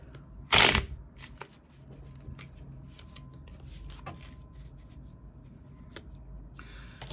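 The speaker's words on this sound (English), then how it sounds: "I want to see you shuffle up the cards" A single sharp burst of tarot cards being riffled and shuffled near the start, followed by softer intermittent card handling and light rubbing sounds in a quiet room.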